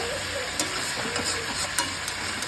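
Chicken pieces and potatoes sizzle steadily in hot oil while being stir-fried, with a constant fizzing hiss broken by occasional sharp scrapes and clinks of the stirring spoon.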